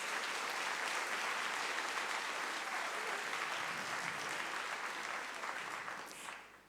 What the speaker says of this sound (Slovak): Veľký potlesk im pošlite.